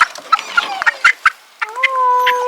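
Chicken clucking and squawking loudly while being picked up on a Portugal homestead, close, rapid agitated clucks followed by a drawn-out protesting call.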